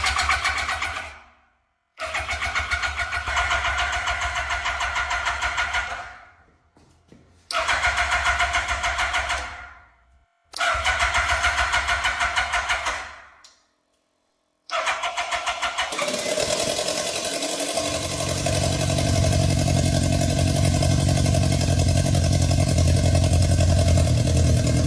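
A 1998 Yamaha R1 motorcycle engine, freshly oiled and fed from a gasoline bottle, cranks in several short bursts separated by pauses, then catches and settles into a steady, loud running rumble.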